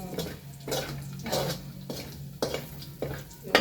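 Longganisa sausage fries in a pan, sizzling under rhythmic bursts of stirring and scraping, with no talking.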